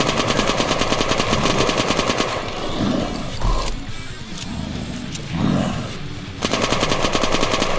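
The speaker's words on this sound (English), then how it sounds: "Is this a machine gun?" Sustained automatic machine-gun fire at zombies in a video game, loud and continuous at the start and again near the end, with a quieter stretch of scattered game effects between bursts.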